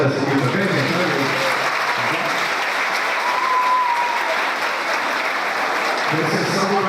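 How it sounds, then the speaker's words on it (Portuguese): A church crowd applauds steadily for a children's worship team, continuous clapping at even loudness throughout with no break. "Uma salva de palmas dessa equipe também, gente."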